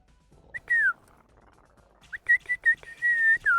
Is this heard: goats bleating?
no